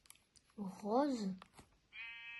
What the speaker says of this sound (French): Il y a un mouton